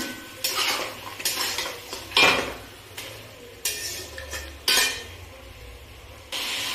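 A spatula stirs fried fish heads into freshly cooked spiced masala in a pan for a mung dal dish, with intermittent close scraping strokes and light metallic clinks, no talking.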